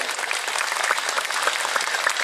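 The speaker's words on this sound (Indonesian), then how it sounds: "tepuk tangan untuk Az-Zahir." An audience claps for the sholawat group Az-Zahir at a religious gathering, a dense, even wash of applause that holds steady throughout.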